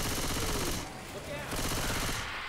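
Rapid automatic gunfire in Left 4 Dead 2, dense loud bursts with a short lull in the middle before the firing resumes.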